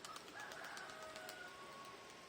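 Faint cooing of a crested Mardin tumbler pigeon in a quiet setting, soft and somewhat distant.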